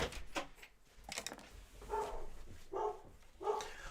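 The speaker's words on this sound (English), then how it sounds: "That's the dog." A dog barks several times indoors, short moderately loud barks spaced about half a second to a second apart, with a few softer sounds between them.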